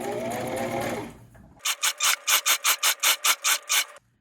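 A sewing machine stitches a round circle placemat, giving about ten rapid, evenly spaced mechanical bursts in a steady rhythm after a brief rustling start.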